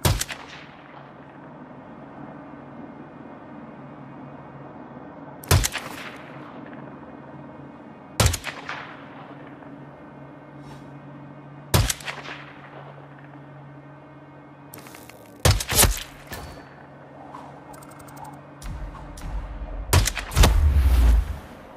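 Gunshots in Hitman 3 on a Siberian level: a handful of loud, sharp reports spaced several seconds apart, then a quick cluster near the end, over a low steady hum.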